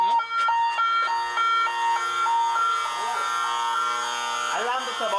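Inside an indoor freshwater eel farm, a loud electronic alarm rings insistently, with repeated pulsing tones that are steady and piercing throughout, and a voice partly under it.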